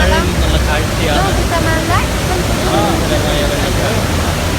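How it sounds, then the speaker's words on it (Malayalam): The Devil's Throat falls at Iguazu, Argentina, roar with a dense, constant wash of thundering water heard up close from a boat, with people's voices faintly mixed into the noise. "മനോഹരമായ വെള്ളച്ചാട്ടം."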